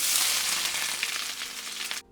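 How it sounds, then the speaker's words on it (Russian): Chopped onions sizzle steadily in hot vegetable oil in a kazan, a close, continuous bright frying hiss that stops abruptly at the end. "Лук нарезаем и нужно обжарить на растительном масле."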